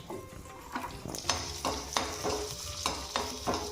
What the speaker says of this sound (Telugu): శనగపప్పు మినపప్పు కొద్దిగా జీలకర్ర ఎండుమిరపకాయలు వేయాలి వేసి ఆపాలి